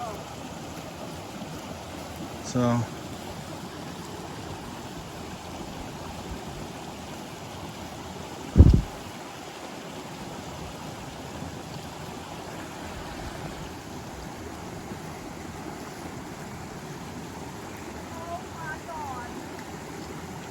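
A small, cold stream crossing on the Pinhoti Trail is forded by a hiker, with a steady, soft rush of water throughout, one brief thump near the middle and a single short spoken word.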